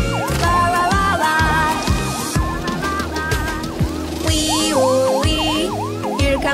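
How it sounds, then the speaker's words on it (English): A cartoon police car siren wails in a repeating up-and-down pattern over a bouncy children's music track, loud and continuous, with no talking. "Wee-oo-wee, here comes my police car chasing a thief down the street."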